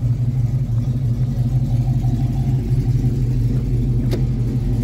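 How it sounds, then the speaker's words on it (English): A 1986 Chevrolet K10 4x4 pickup idles with a steady, deep, throaty rumble from an aftermarket-sounding exhaust, loud and close, holding even throughout with a brief click near the end. "It's got a nice throaty exhaust note to it. Definitely not factory sounding."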